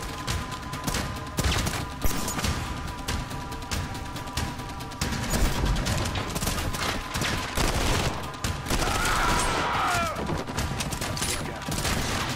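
Sustained automatic gunfire in the shooter Trepang 2, dense rapid bursts nearly continuous across the clip with crashes and thuds mixed in, loud and close.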